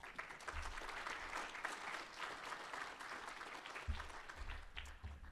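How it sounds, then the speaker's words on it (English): An audience at an educator-of-the-year awards banquet applauds steadily, a dense and even wash of many hands clapping in a large room, fairly distant and without any voices. "big round of applause"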